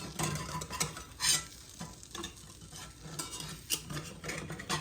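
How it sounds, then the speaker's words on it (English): An omelette fries in a pan, a steady close sizzle broken by scraping and tapping as a spatula works under it to flip it, with no voices. "I'm gonna go ahead and flip it. I'm gonna get a bigger, spatula here."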